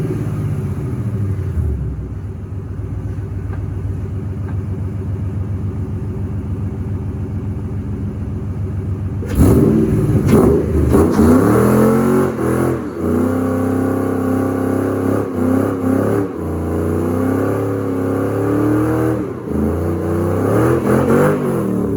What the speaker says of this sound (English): The car still does a burnout.